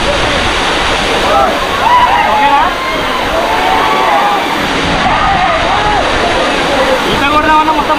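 Medaram waterfall at Gandhari pours in a loud, constant rushing roar, with water splashing over rocks nearby and voices faintly mixed into the steady wash.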